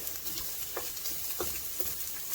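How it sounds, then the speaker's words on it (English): Onions sauté in an oiled pan, a faint steady sizzle with a few soft stirring scrapes scattered through, quiet and close with no talking. "We're going to cook the onions and saute those."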